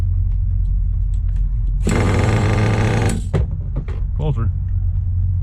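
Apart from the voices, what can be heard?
nitro-powered RC truck engine idling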